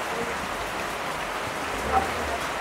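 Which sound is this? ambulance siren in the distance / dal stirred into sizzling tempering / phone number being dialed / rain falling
rain falling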